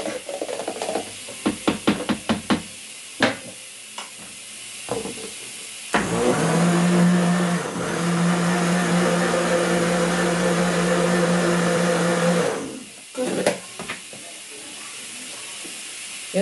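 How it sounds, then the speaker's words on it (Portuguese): A kitchen blender runs on milk to break up lumps, first a series of short clicking pulses, then a loud continuous whirring drone for about six seconds that stops abruptly, followed by a few clatters. "botando aqui no liquidificador pra tirar as bolinhas."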